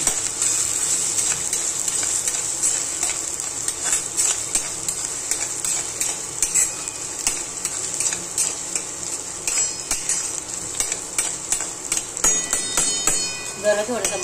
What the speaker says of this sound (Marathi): चांगली फोडणी देऊन घ्यायची लसूणची.